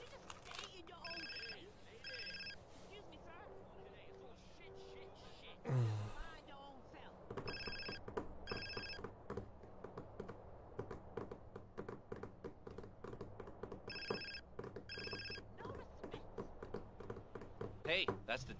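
A phone rings repeatedly in the video game GTA San Andreas, with evenly spaced trilling bursts across the stretch. Game sounds and a thump play around the rings, and speech runs over them.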